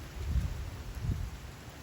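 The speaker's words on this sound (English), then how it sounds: "it's so windy, right?" Wind gusts outdoors beside a bird nest, buffeting close and low with two stronger rumbling blasts over a steady rush.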